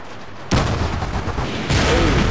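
Artillery firing in Shogun 2 Total War during the 1868 Battle of Toba-Fushimi: two loud booming shots about a second apart, the second rolling into a sustained rumble.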